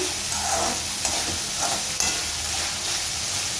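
Bitter gourd curry with jaggery fries in a pan as it is stirred, a steady close sizzle and hiss broken by soft scraping strokes of the spoon.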